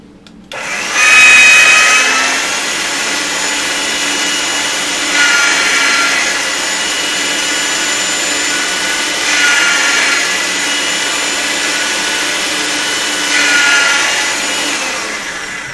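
A cutting machine runs for a daisy jewelry craft, making a steady, loud mechanical whir with a tonal hum that swells every few seconds, with no talking.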